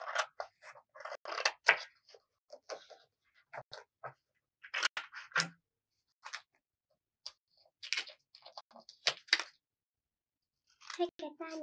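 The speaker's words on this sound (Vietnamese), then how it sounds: "Tiếp theo mình sẽ dùng cái tờ giấy màu xanh này để mình cắt ra hai cái tai nha" Scissors cut blue colored paper into two ear shapes for a cute handmade paper clock, giving a close, crisp run of irregular snips and rustles separated by short pauses.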